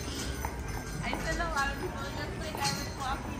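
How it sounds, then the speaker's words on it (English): A horse walks close behind on an outdoor path in Leavenworth, Washington, its hooves clip-clopping steadily amid ambient outdoor noise, with people talking nearby. "and then we got a horse following us."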